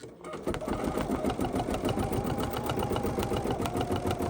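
An embroidery sewing machine stitches a sampler quilt block in a steady, rapid mechanical rhythm that runs nonstop and close up, filling the whole stretch evenly.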